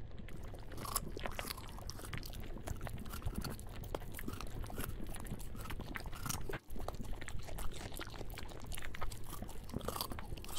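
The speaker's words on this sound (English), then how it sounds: "There is a lot of chewing noises going on." Carrots being chewed in the video game Carrots and Cream: dense, continuous close-up crunching and munching, wet and rhythmic, with no talk over it.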